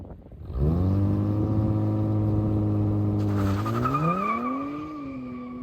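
A 2023 Nissan Z launches using launch control: the engine holds a steady loud rev, then surges as the car pulls away, with tire squeal rising over the climbing engine note, close and without talk.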